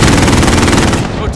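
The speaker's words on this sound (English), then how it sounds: "Got a sentry gun on station." A sentry gun fires in Call of Duty: Modern Warfare, a loud, close, rapid stream of machine-gun shots that fades slightly at the end.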